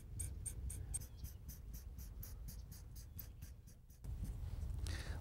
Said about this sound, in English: I'm going to use a felt tip marker.